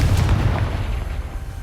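A Confringo blasting spell in Hogwarts Legacy lets out a loud, booming explosion with a deep rumble that fades away over a second or so.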